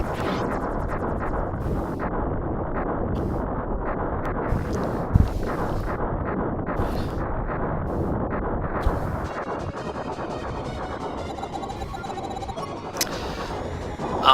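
Upgraded blaster in the video game Star Fox 2 firing in a dense, unbroken barrage of loud shots and blasts, with a few sharper bursts standing out near the end and no talking.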